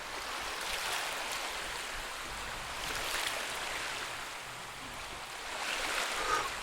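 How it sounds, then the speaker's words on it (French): Sea waves from a sound effect library wash in a steady, broad roar, swelling into louder surges about three times and easing back between them, with no voices. "on a des bruits de vagues"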